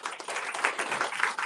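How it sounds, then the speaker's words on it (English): Brief applause from a crowd at a cancer awareness community event, a moderately quiet burst of many hands clapping with uneven swells. "Give them a kind round of applause."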